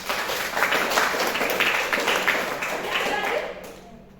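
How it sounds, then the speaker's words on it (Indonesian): Classroom applause from a group of students at a teaching session on digital content, steady broadband clapping lasting about three and a half seconds before fading, with voices mixed in beneath it. "Oke, tepuk tangan dulu untuk."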